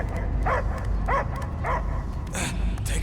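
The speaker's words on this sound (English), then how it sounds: "I hear only barking" Dog in the Guardians of the Galaxy game, four or five sharp barks spaced about half a second apart, close and loud over a low rumbling background.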